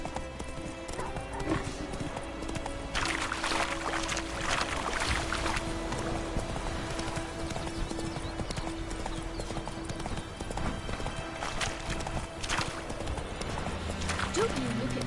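Geralt's horse Roach trots in The Witcher 3, steady hoof clip-clops ringing out over game ambience, with a brief whinny and a voice talking now and then.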